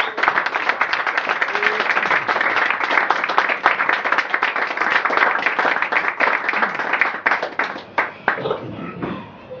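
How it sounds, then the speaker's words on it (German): Lively audience clapping at a poetry slam, a dense burst of hand claps that holds steady and then thins into scattered claps as it fades out near the end. "Applaus für Andreas Andi Eisoblammer!"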